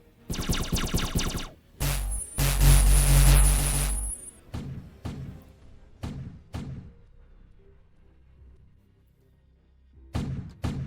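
Solar cannon blasts in the Lovecraftian steampunk game Void Sails: a loud dense burst of fire followed by several sharp, booming shots spaced a second or so apart, fading between them before another shot at the end.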